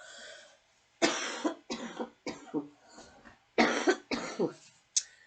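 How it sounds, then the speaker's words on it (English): A string of harsh, close coughs in irregular bursts, some paired, separated by short quiet gaps. "not fun to hear someone else cough"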